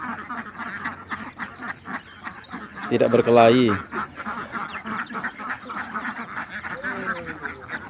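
Ducks quack loudly in a short burst among chickens, with someone talking over it in Indonesian and a busy crowd murmuring throughout.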